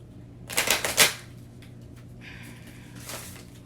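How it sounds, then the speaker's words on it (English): Tarot cards being shuffled and drawn, a quick burst of riffling flutters up close followed by a softer slide and flick as a card is pulled. "We're gonna pull our last card."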